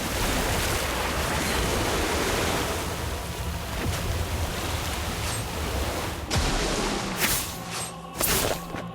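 A water orb spell cast in the Harry Potter: Magic Awakened video game makes a steady, loud, surf-like rushing wash. Sharper splashy bursts break through near the end.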